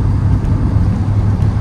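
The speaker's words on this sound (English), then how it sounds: "revving till 6000 RPM, fourth gear." Kia Sonet 2022 HTX crossover engine pulling hard in fourth gear toward 6000 RPM, a steady loud low drone with road noise from inside the cabin, alone without talk.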